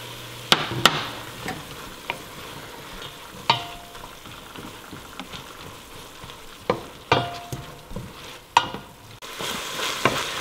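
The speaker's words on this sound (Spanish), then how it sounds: "voy a agregar la cebolla y voy a dejar que la cebolla se cocine hasta que esté esta translúcida" Chopped onion sautés in a pan for a Peruvian soup, a low steady sizzle broken by sharp, irregular clacks of a spoon scraping and stirring, close and fairly quiet.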